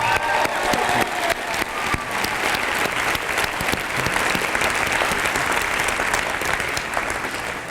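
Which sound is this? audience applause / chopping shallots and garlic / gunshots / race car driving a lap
audience applause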